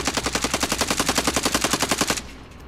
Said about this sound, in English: Somebody's shooting me at the blue building.